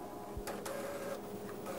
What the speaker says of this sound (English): All we have to do is save the file and then send it to the printer.